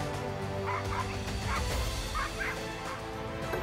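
An angry dog barks at a monkey, giving a series of sharp, fairly close yips and barks spaced irregularly over a noisy outdoor background.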